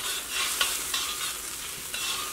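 Noodle sauce bubbling in a pan on the stove makes a steady, close hiss and sizzle, broken by a few soft clicks and taps throughout.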